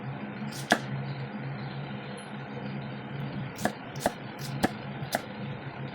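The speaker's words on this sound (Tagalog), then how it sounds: "Tuloy-tuloy ang pag-ihiwa. Sibuyas na po tayo." A very sharp knife chops onions on a board, with one crisp chop, a pause, then four quick strikes in a loose rhythm. The sound is close, over a quiet room, with no talking.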